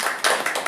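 A few quick, bright claps from a small group in a classroom, coming in short bursts with brief gaps between them.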